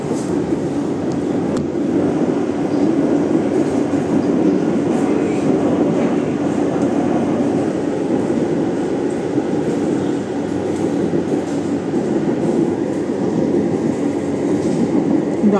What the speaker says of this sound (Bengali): দমদম এলাকার বিভিন্ন অংশ দিয়ে মেট্রো যাচ্ছে।